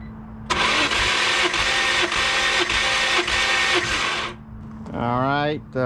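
BMW E46 M3 engine cranking on the starter during a compression test, a rhythmic whirring churn lasting about four seconds, close and loud, followed by a voice.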